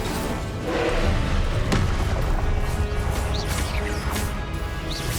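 A fiery Incendiary spell blast in Hogwarts Legacy: a loud crashing burst with thuds and a rushing roar over busy game sound, holding strong throughout.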